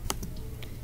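A few light, quick clicks of computer keyboard keys being typed, close and soft over a quiet room.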